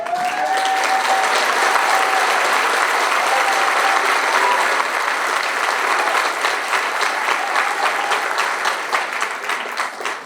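A large audience at a Kingston College graduation ceremony breaks into loud, sustained applause for a graduate, the dense clapping holding steady for the full stretch with a brief whistle near the start and a slight fade at the end.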